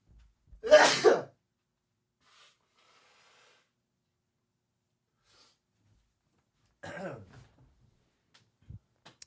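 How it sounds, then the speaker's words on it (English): A person who is sick blows their nose: one loud, forceful blast near the mic, then quiet, then a shorter second blow and a small sniff, with no talking. "I gotta blow my nose."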